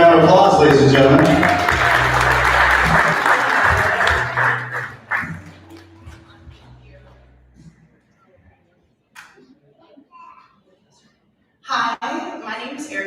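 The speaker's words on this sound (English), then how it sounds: "Give up a big round of applause, ladies and gentlemen." Wedding guests at a reception toast clap in a loud, dense round for about five seconds with a low hum underneath, then fade to near silence before a voice starts speaking close by.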